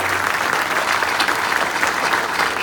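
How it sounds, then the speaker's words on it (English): Sustained audience applause at the launch event for a new innovation district in Aurora, Illinois, a dense, steady wash of clapping from a sizeable crowd throughout, with no one speaking over it. "Let's give another round of applause for Governor J.B. Pritzker"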